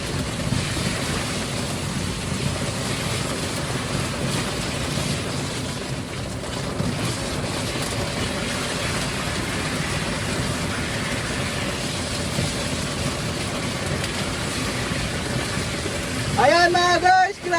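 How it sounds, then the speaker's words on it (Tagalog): A steady, dense hiss of heavy rain pours throughout, loud and continuous, with a brief rustling burst near the end. "Grabe, ang ulan, ang lakas."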